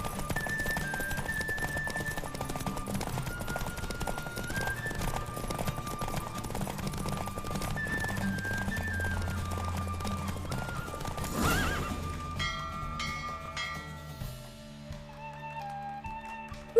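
A horse galloping in a race in The Witcher video game, its steady rapid hoofbeats drumming continuously under game music, with occasional whinnies.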